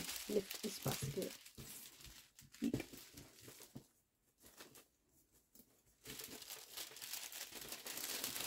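Cellophane wrap crinkles and scrunches around a baby boy gift basket being wrapped on a table, bursts of rustling with a quiet pause midway, under people talking.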